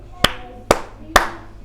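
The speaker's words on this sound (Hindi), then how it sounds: "3 ताली बजाते।" Three sharp, evenly spaced hand claps from a storyteller during a religious discourse, each a crisp, close snap with a short decay.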